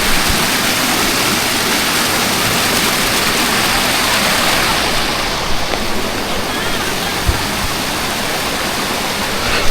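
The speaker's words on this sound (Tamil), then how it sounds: "தண்ணி சத்தம் சூப்பராக இருக்கு" Rushing water of the Cauvery river roars loud and continuous at a riverbank near Karanampalayam, a dense broadband wash that fills the whole clip with a few faint knocks near the end.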